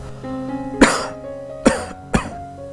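Three sharp, close coughs in an uneven rhythm, each a short burst separated by quieter gaps with a faint tonal hum underneath.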